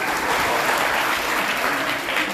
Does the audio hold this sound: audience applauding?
yes